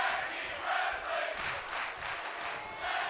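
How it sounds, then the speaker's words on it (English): A wrestling arena crowd in the WWE 2K25 video game cheers and roars in steady swelling waves throughout, loud and close, with no commentary over it. "The crowd seem to be loving this match."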